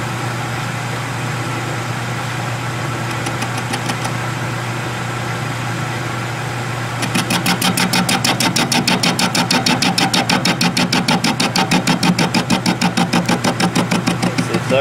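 Lathe machining a tough steel steam engine cylinder head with a carbide tool: a steady motor hum, then from midway a rapid, evenly repeating cutting chatter that continues to the end, close and fairly loud.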